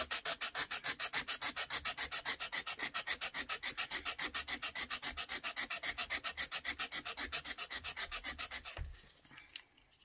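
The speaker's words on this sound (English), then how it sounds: "you want to sand a coffee stirring stick. Just keep going back and forth." A wooden coffee stirring stick being sanded with a sanding block, a steady rhythmic back-and-forth rasp of many even strokes, close and loud, ending with a few scattered scuffs.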